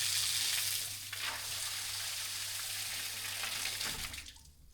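Water pours steadily into a tank with a hissing, splashing rush and a low hum underneath, then tapers off near the end; close and continuous, no voices.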